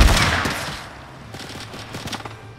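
Rapid gunfire from a Fortnite match, a fast burst of sharp, fairly close shots that repeats with short gaps through the moment, with no talking.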